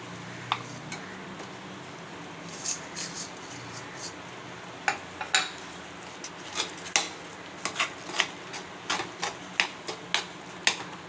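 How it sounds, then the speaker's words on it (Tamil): A spoon stirs jaggery into cooked raw mango pachidi in a pan on the stove, making sharp irregular clinks and taps against the metal. The sounds grow more frequent over a quiet background. "வெல்லம் கரையிற அளவுக்கு கிண்டி விடுங்க"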